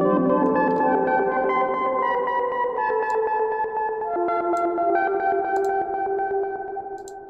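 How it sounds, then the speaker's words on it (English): A Moog Minimoog Model D synthesizer on iPad sustains a chord with a long, washy reverb tail and echoing shimmer, playing steadily and fairly loud throughout, with occasional bright high blips. "many sounds sound much better with a reverb on them."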